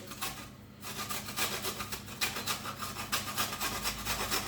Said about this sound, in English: I'm just grating that next bit of coconut.